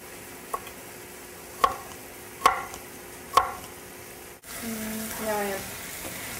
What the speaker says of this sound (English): cut those bulbs off the bottom. And just thinly slice it.